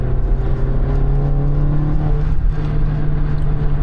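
A tuned Volkswagen Golf R estate engine accelerates hard with a loud, sustained droning tone that stays steady at close range, with no talk over it.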